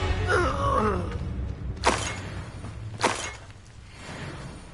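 Confringo blasting spells from Hogwarts Legacy: two sharp, bright bursts about a second apart, after an opening groan-like vocal sound and game noise, then a quieter tail.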